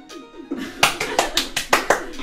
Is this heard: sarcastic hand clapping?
yes